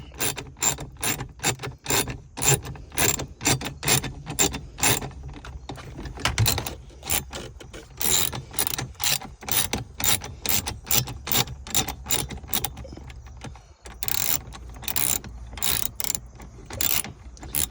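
Bolts are ratcheted in to mount a grab handle on a Jeep Wrangler JL, heard as long runs of rapid, close metallic ratchet clicks in bursts separated by brief pauses.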